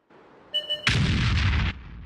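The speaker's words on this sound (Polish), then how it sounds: "O, była artyleria." Artillery fire in World of Tanks: a short tonal cue and two soft thumps, then one loud, heavy blast that rumbles on for nearly a second before cutting off.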